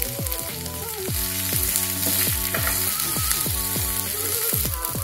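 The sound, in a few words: potatoes and coriander frying in pan for potato bhaji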